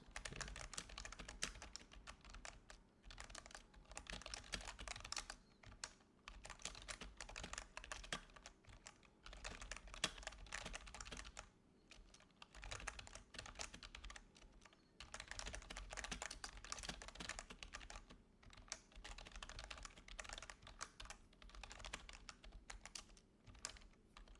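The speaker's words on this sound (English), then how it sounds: "That was a demonstration of my slow typing" Slow, uneven typing on a computer keyboard, with close, crisp key clicks in irregular bursts and short pauses, heard alone with no talking.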